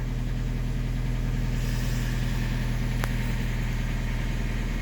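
A car engine idles steadily while warming up, a continuous low rumble with a constant rhythmic throb, close and loud throughout, with a brief faint click near the end and no talking.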